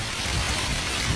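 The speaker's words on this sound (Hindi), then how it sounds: "ठंडा बारिश हो गया" Cold rain falls in a steady, dense patter close by, an unbroken hiss of drops on surfaces with no voices.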